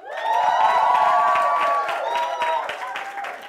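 A studio audience at a variety show cheers and shouts in a loud, sustained swell of voices with scattered clapping, peaking early and tapering off slightly toward the end.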